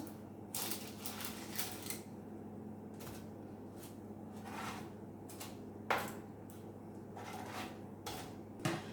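Low-carb keto chicken and broccoli fritters being flipped over on an oven tray, with repeated light clatters and scrapes of a utensil against the tray and a couple of sharper knocks, close and moderately loud over a steady low kitchen hum.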